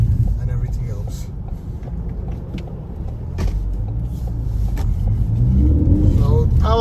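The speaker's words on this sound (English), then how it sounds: "2013 Ford Focus ST 6-speed manual petrol." A 2013 Ford Focus ST with a 2.0-litre petrol engine and six-speed manual gearbox accelerates, its engine note rising toward the end under road noise while someone talks.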